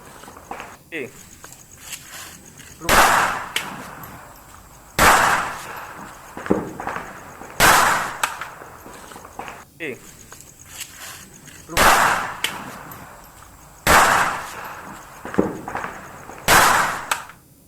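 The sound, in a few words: celebratory gunshots fired into the air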